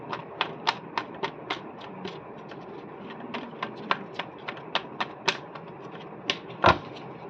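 Tarot cards shuffled by hand during a reading give a quick run of sharp, evenly spaced taps and riffles, close and distinct, ending with a heavier thud.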